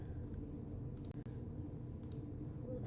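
A computer mouse clicks twice in quick succession, then lightly again a moment later, crisp and close against a steady low room hum.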